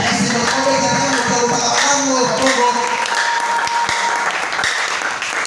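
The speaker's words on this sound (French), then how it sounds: "Est-ce que quelqu'un peut encore acclamer les paraclés?" A church congregation breaks into sustained, loud applause lasting the whole stretch, dense and steady clapping with a few voices mixed in.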